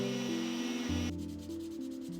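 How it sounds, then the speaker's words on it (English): Sanding cured epoxy putty smooth and even on the body of a handmade glide bait, a steady close rubbing and scraping that runs the whole time with small shifts in pitch and no talk. "our epoxy putty is nice and cured, so we can start smoothing it out and getting it even with the rest of the body"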